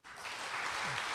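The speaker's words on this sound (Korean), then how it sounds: "여러분 뜨거운 박수 부탁드리겠습니다" Audience applause at a church general assembly candidate forum, a steady wash of clapping that swells in quickly and holds evenly for the short moment.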